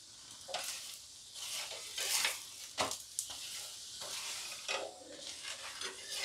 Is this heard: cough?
no